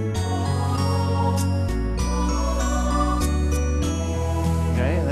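An Elite EX keyboard runs a holiday-style accompaniment with a steady bass line, sustained chords and bright chime-like accents, playing continuously and fairly loud with no talking.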